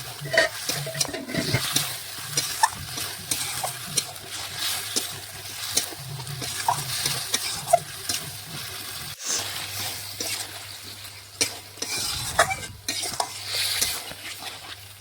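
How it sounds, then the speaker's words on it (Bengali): Chicken frying in oil in a kadai (wok) is stirred with a utensil, giving continuous sizzling with repeated scraping and clinking strokes throughout, close up and steady, with no voices. "এখন নাড়াচাড়া করে আবারও কিছুক্ষণ চিকেনটা রান্না করে নেব কড়াইয়ের মধ্যেই"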